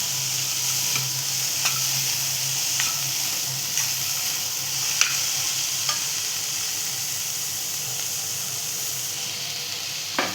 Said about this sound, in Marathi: ह्यात आता आपण टाकतोय वालाचे दाणे जे आपण शिजवून घेतलेले आहेत